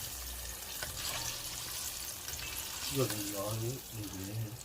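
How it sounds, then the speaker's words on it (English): Steady sizzling of fish frying in hot oil, a soft crackling hiss, with a person's voice briefly talking over it. "we're going to continue frying these up"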